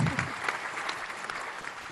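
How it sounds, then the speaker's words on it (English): An audience at a live community event breaks into brief applause, a dense patter of hand claps that starts loud and tapers slightly over a couple of seconds, with no talking. "Let's give you a round of applause."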